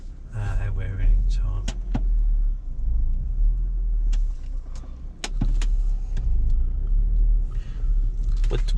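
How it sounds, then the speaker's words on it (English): Volvo car being driven slowly during rear brake testing after a pad and disc replacement, a steady close engine and road rumble throughout with several sharp clicks and knocks, and voices talking over it. "We're doing some brake testing"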